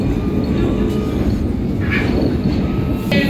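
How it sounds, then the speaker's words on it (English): A London Underground Metropolitan line train running between stations, heard from inside as a loud continuous low rumble with rattling and brief high wheel squeals. "So I'm now just on the Metropolitan line."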